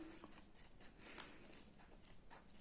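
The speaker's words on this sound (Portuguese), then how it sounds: "Aqui eu vou cortar essa pontinha do meu bojo." Scissors snip through the tip of a crochet bra cup pad, with quiet close crisp cuts repeating several times in a faint, otherwise silent setting.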